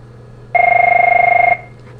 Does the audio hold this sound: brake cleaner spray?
no